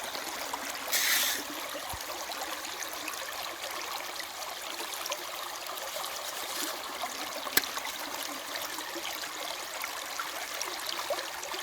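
Water washes steadily through a gold prospecting sluice outdoors in West Virginia, a constant soft trickling rush with a brief splash near the start and a sharp knock later.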